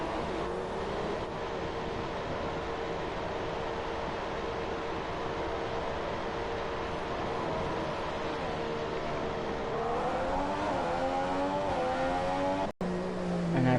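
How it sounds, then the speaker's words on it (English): A Formula 1 race car engine in the 2015 video game holds a steady high whine, then revs rise and fall through gear changes near the end, loud and alone. "this is where you guys determine if my car is too loud"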